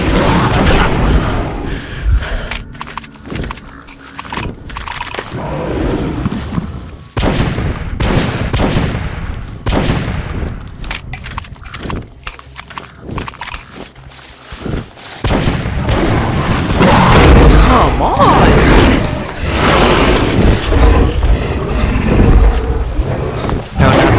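Loud, dense weapon fire in Metro: Last Night, heavy booming shots and bursts packed closely together amid roaring creature noises and chaotic combat ambience throughout.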